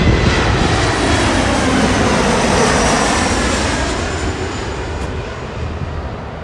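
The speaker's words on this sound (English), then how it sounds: "there is our Embraer 175." A Delta Connection Embraer 175 airliner operated by SkyWest at Los Angeles International Airport gives a loud, broad jet engine roar that stays steady and then fades slightly as the plane moves away.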